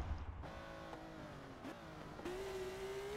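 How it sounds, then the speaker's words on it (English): A BMW race car engine revs in the racing game Forza 7, a fairly faint harmonic engine drone that dips briefly, then climbs and holds a high, sustained rev. "I can just sit here and bang this thing off redline all day. and just enjoy that sound of that nasty race motor."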